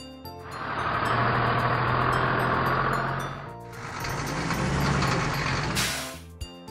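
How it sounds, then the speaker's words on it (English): A tow truck sound effect for a children's toy vehicle roars as a steady, loud engine rumble in two long bursts, close and alone, ending with a bright burst and a click. "Tow truck."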